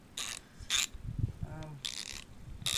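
A new GearWrench socket ratchet being turned by hand, with several short bursts of fine, rapid clicking separated by brief pauses and a faint metallic ring, close up and fairly quiet.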